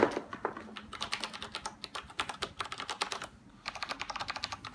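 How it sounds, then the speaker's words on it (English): Rapid, steady typing on a ROCCAT mechanical keyboard with brown switches, a continuous flurry of clicky keystrokes with a brief pause near the end before resuming. "the brown switches are going to be good for that because they're not as loud"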